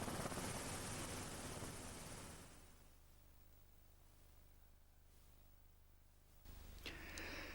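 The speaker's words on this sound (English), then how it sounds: "let's land this helicopter" Steady, dense rotor and engine roar of a nearby helicopter over Plymstock, Plymouth, loud at first, easing to a lower rumble as it descends to land, then swelling again with a brief high whine.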